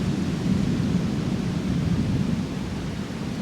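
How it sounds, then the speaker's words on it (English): Low, steady thunder rumbles under gusting wind as a thunderstorm approaches over a house, with leaves blowing about; the roar stays broad and even throughout, with no distinct crack. "A thunder."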